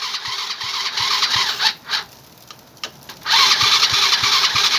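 An ATV engine that needs reviving cranks with rhythmic chugging, briefly dies down, then catches and revs loudly, close by, with no talking.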